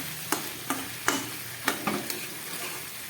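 Potatoes tossed into a pan of cooking chicken sizzle steadily while a spatula scrapes and knocks against the pan in about six sharp, irregular strokes, close and clear with no talking.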